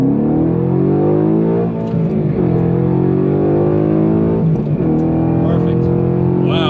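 A 2011 Ford Mustang GT 5.0 V8 pulls hard toward redline, its engine note climbing loudly through two rising sweeps as it shifts, heard from inside the car.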